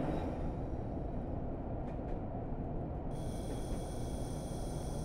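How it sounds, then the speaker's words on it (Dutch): A Class 105 diesel-mechanical train runs steadily on the line between Barnard Castle and Bishop Auckland, giving a continuous loud rumble of engine and wheels with no break over the whole stretch. "Het is een dieselmechanische trein."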